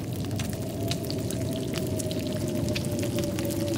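Water is poured or set going for cooking in The Long Dark, a continuous close watery rush with a steady low hum underneath and scattered small splashy ticks, heard alone without talk.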